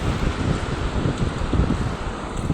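Strong, continuous wind buffeting the microphone with a low rumbling roar at a beach on the Arabian Sea, steady throughout and with no voices.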